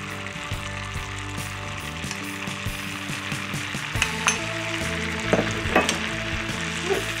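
Butter and brown sugar cook together in a pan with a steady sizzle, while a utensil stirs and scrapes through the mixture in repeated close clicks and knocks.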